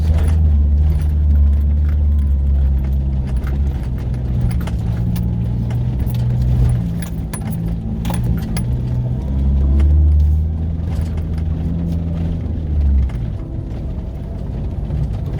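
Toyota Hilux 4WD labouring up a steep dirt hill climb in tropical North Queensland bush, a steady loud low engine rumble with rattling and jangling from the cab throughout, no talk.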